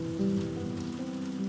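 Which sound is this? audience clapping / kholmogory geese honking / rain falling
rain falling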